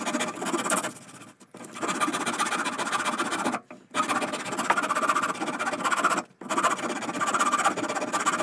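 A four-in-hand rasp files a wooden slingshot blank in steady back-and-forth strokes, a dense scratchy rasping broken by three short pauses, close and moderately loud with no talking.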